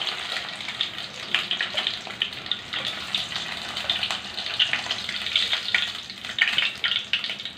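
Mustard seeds, chana dal, dry and green chillies, cumin, fenugreek and curry leaves sputter in hot oil, a moderate sizzle with frequent small pops and stirring, close and without speech.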